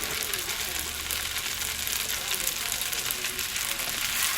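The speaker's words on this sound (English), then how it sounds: "I'm going to be tossing all of this together, and I'm going to cook it down" Cabbage and carrots stir-frying in a hot pan for vegetable lo mein, a loud, continuous close sizzle with a steady crackling hiss that never lets up.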